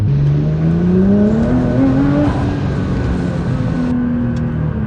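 A Nissan GT-R with new injectors and a stage 3 tune revs during a half-throttle pull, the loud engine note rising in pitch for about two seconds, then holding steady before easing off.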